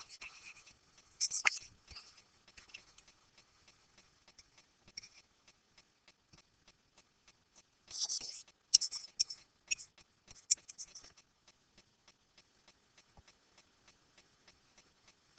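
Pen or pencil writing by hand on paper during a geometry lesson on triangle similarity, with sparse scratchy strokes and small taps, two busier bursts of scribbling among long quiet gaps, close and faint.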